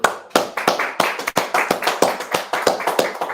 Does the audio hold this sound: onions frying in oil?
no